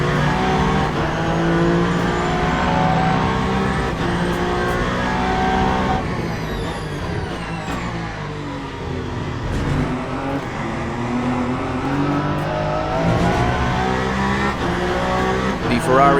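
GT3 race cars in the Le Mans Ultimate sim, including a Ferrari 296 GT3, roar loudly at the Bahrain circuit with rising and falling engine pitch and braking, under continuous commentary.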